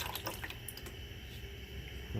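Water dripping from a diesel fuel filter on an Onan generator, faint scattered drips and trickling over a steady low background hum.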